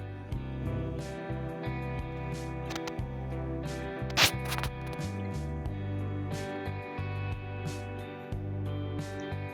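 Taro leaf stems being cut off one at a time while preparing alu vadi, a series of short crisp snips and handling noises over a steady kitchen background, with no talking.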